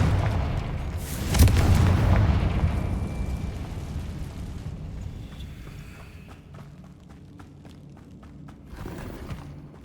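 A Confringo fire spell explodes in Hogwarts Legacy with a heavy booming blast after a brief lead-in, its low rumble decaying over several seconds before scattered light clicks and a small later thump.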